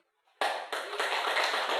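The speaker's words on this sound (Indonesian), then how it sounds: "Tepuk tangan ya, Pak." A burst of applause starts suddenly after a moment of quiet, with many hands clapping steadily and fairly loudly until the end.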